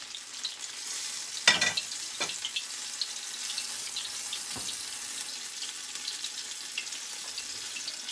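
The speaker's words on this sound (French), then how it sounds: "J'ai pris un wok parce que comme ça on peut en faire cuire plusieurs à la fois." Apple beignets deep-fry in hot oil in a wok, with a steady close sizzle and a few brief clinks or stirring knocks early on, no voices.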